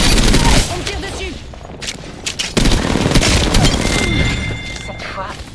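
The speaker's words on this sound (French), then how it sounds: "On me tire dessus." Gunfire rattles through a battle royale match, dense bursts and booming shots nearly continuous over several seconds, loud and close, with game sounds mixed in and a voice speaking beneath the shooting.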